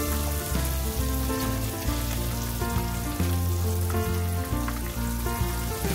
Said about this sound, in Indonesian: Kemudian udangnya dimasukkan ke tepungnya dan digoreng.